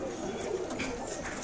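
A large, deep-netted pigeon coos softly at close range, a low rolling murmur over a short stretch with no other sounds standing out.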